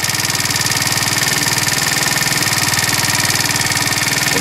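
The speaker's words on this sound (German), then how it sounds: "nachdem der Motor warm gelaufen ist" Warm 50cc four-stroke engine bored up to 90cc idling, a loud, steady rapid thumping putter with a rough, slightly knocking edge, close up and unbroken.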